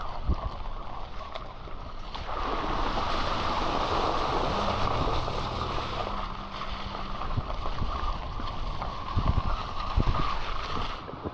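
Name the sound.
creek flowing near a campsite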